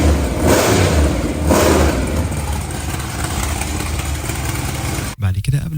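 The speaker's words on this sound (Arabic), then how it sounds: "وتعالوا نسمع صوت المحرك V8 الأمريكي." The American V8 of a classic Chevrolet drag car runs loud and close, a rough, steady rumble with surges of revving before cutting off abruptly near the end.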